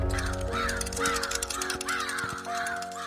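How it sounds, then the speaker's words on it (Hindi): A crow caws repeatedly in a rhythmic series of harsh calls, fairly close and loud over soft background music. "बाहर कौवा उसका इंतजार कर रहा था"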